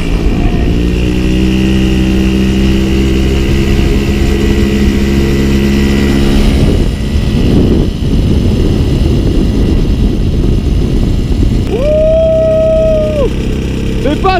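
A 1966 Motoconfort AU79 / Motobécane AV79 moped, factory-rated at 40 km/h, drones loudly and steadily while being ridden, its engine note holding then shifting, with wind rush mixed in throughout.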